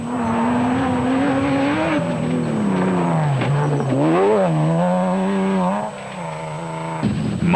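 Off-road race cars, a Jimco and a Raceco, race in the Hluhluwe 400, with a loud, close engine whining and revving steadily as its pitch rises and falls across gear changes.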